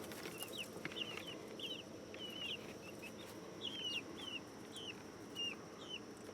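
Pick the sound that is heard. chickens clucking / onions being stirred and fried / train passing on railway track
chickens clucking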